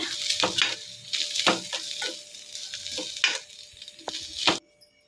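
Soaked masala avalakki, flattened rice, being stirred and mixed in a pan with a spoon: repeated scraping strokes with a soft sizzle, close up, and a short quiet pause at the end.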